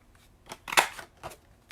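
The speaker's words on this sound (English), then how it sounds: "I may need to do a little snipping, yeah, to get it to fit inside the punch properly." Scissors snipping cardstock for a stamped card: several quick, close cuts in an uneven rhythm, one snip sharper and louder than the rest, and no talking.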